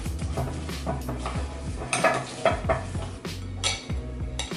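Gluten-free Rice Krispies are stirred into a cashew butter mixture, producing crisp crackling scrapes and spoon knocks against a bowl, steady and close with a few louder strokes.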